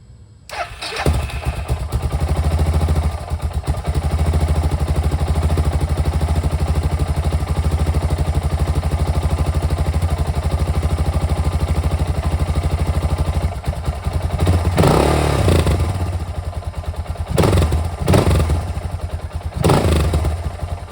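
A Suzuki DR650 dual-sport motorcycle cranks, catches and runs loud and steady close by, with a couple of throttle blips near the end and no talking.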